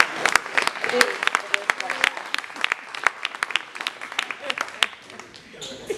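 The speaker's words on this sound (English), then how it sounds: "Can we have a round of applause?" A graduation crowd at a culinary training programme applauds, with sharp individual claps that start fairly dense and then thin into scattered, separate hand claps toward the end.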